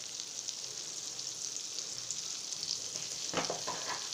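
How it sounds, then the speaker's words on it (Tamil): Butter and oil heat in a pan, giving a soft, continuous sizzle with faint crackles, and a short burst of stirring or clatter near the end, all fairly quiet and without talk. "இப்போ பட்டரும் எண்ணெயும் காஞ்சிருச்சு"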